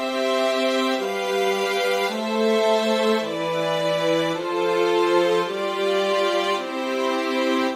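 Sustained chords played in four-part harmony move smoothly from one to the next, each held about a second, with a bright, bowed string-like tone.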